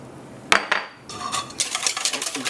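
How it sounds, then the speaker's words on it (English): Macaroni pie mixture with evaporated milk and nutmeg being whisked in a bowl, opening with a couple of sharp clanks against the bowl and then a steady run of quick, close rhythmic whisking taps, with no talk. "Again, give that a good whisk."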